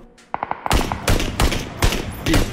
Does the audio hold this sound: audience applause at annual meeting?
no